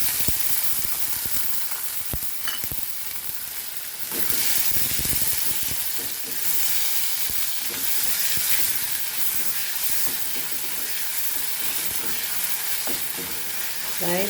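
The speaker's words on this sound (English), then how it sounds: "Fry this nicely." Onion and tomato fry with beef in a pan for Goan beef chilli fry, a steady close sizzle and hiss with intermittent stirring scrapes and faint clinks throughout.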